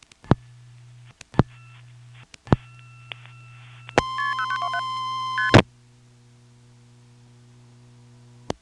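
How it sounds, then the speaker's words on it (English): A 1977 all-relay telephone exchange in Pinetown, North Carolina, answers a dialed 1 plus 411: sharp relay clicks over a low steady hum, then a loud burst of shifting tones that cuts off back to the hum. "Then we'll dial 1 plus 411."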